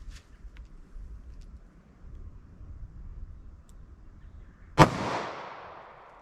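A single sharp gunshot from a .38 Special revolver with a 2-inch barrel, firing 110 grain standard pressure ammunition, cracks loudly near the end, followed by a brief decaying echo after a quiet, low rumbling lead-in.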